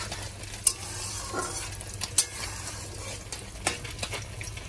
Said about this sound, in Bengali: এই যে পাট শাকটা বসিয়ে দিয়েছি